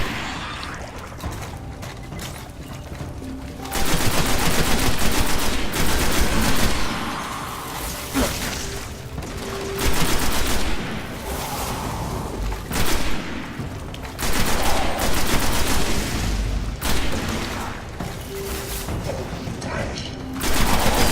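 Rapid bursts of gunfire from a weapon in the video game Destiny, several loud fusillades separated by short pauses, with game effects beneath and little talk.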